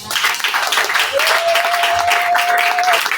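Congregation in a church applauding to acclaim the Lord, a steady, dense wash of clapping that fills the whole moment, with a sustained tone from the sound system running through the middle.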